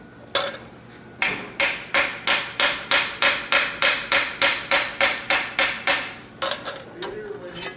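Blacksmith hammering hot metal at an anvil during a smithing demonstration, a quick steady run of about seventeen loud ringing blows, with softer taps and faint room noise before and after.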